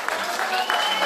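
Audience clapping for an Eritrean singer at a club event, a brief dense burst of applause under a voice.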